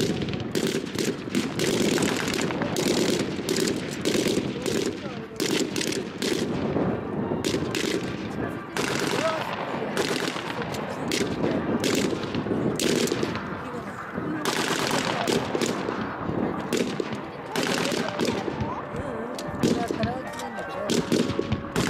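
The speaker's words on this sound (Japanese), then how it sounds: "ものすごい銃撃戦が繰り広げられております。" Blank-fire gunfire from a battle demonstration at the Mineokayama sub-base open day, rapid bursts of automatic fire and single shots crackling continuously at a distance, with an announcer's voice over a PA.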